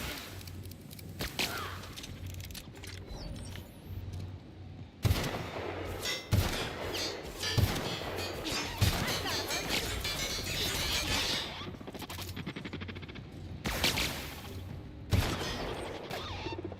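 Rapid gunfire from a weapon in the video game The Outer Worlds, loud bursts of shots cutting in and out over steady game background noise, with clattering impacts between volleys.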